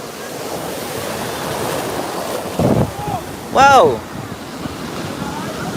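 Ocean surf breaking and washing onto the sand at Cocoa Beach on a windy day, a steady roar with a louder surge midway, and a person briefly exclaims over it.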